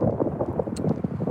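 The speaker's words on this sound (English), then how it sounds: "I don't know if you can hear me, how windy it is" Wind buffets an outdoor microphone in short, uneven low rumbling gusts, loud and close, with a faint brief higher rustle partway through.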